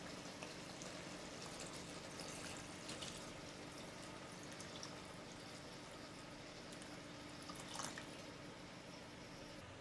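Water pours steadily into a pot of curry in a continuous soft splashing rush, quiet and unbroken, with no voices.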